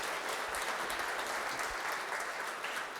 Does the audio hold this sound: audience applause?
yes